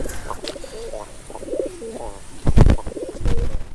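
Lokka (lakka) pigeons coo at a pigeon market in a run of soft, wavering calls, followed by a few sharp, louder knocks and bumps nearby.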